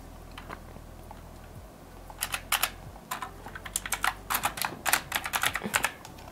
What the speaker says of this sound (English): I know my keyboard is so loud.